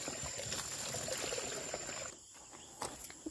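Water is poured and splashes while fish are washed at a campsite, a steady trickling pour that cuts off partway, with a few faint drips after and insects chirping softly behind.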